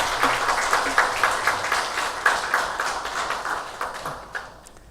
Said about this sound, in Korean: 우리 다시 한번 감사의 박수 하겠습니다